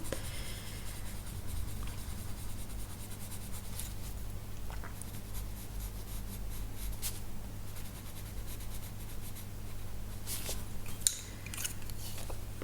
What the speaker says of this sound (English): Going on top with my tiny espresso pencil